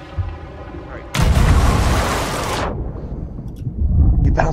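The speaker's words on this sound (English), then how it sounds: "Hit it with a cannon and I just died." Cannon fire in the pirate game Sea of Thieves, a loud booming blast that lingers as a bright rushing roar for over a second, with voices talking before and after.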